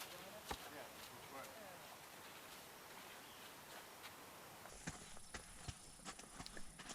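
Samba the horse walks under a rider, hooves clip-clopping in a steady rhythm close by, with rustling and light wind noise around the footfalls and a brief voice in the background.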